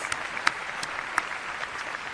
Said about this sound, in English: And we can give her a round of applause.